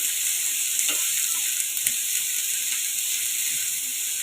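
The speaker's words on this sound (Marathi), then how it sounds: "कांदा आपला छान असा गुलाबी रंग येपर्यंत आपल्याला परतून घ्यायचा आहे" Onion sautés in a pan for a stuffed bitter gourd dish, giving a soft, steady sizzling hiss with a few faint stirring scrapes, fairly quiet and uninterrupted.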